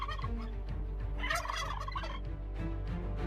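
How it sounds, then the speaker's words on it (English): A flock of turkeys gobbles in loud, overlapping, rapid rattling calls close by, sustained throughout without any talk. "Oh, you're the fucking crazy turkeys again."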